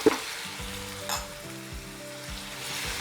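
A cheeseburger skillet mixture of ground meat with mustard, Worcestershire sauce and tomato paste sizzles softly while being stirred, with a scrape or two and gentle, low bubbling beneath.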